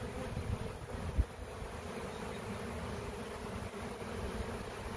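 A honey bee swarm that has settled on another hive gives a steady, dense buzzing hum close by, with one brief knock early on and no talking.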